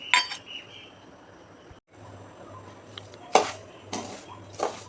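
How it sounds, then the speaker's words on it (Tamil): Semolina (rava) dry-roasting in a pan over a low flame with a pinch of asafoetida powder, giving intermittent scraping and light metallic clinks of a spoon against the pan, with a few louder stirring bursts near the end. "சிம்மிலே வச்சு தான் நல்லா வறுக்கணும். நல்லா ஒரு வாசம் வர வரைக்கும் வறுக்கணும்."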